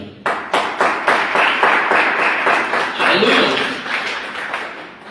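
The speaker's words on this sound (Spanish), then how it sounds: "Den un aplauso al Señor." A church congregation claps and applauds in praise, a dense burst of hand claps with some rhythmic beats, loud and close, while a voice calls out over the clapping.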